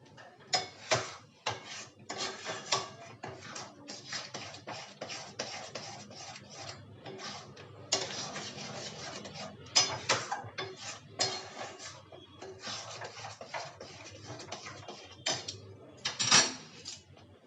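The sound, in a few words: stirring khoya kheer in a wok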